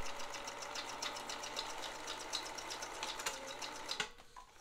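A Pfaff 1222E sewing machine running a zigzag stitch with back tacking, a fast, even mechanical rattle of the needle that stops abruptly near the end, heard alone at moderate volume.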